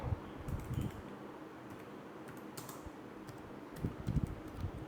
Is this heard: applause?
no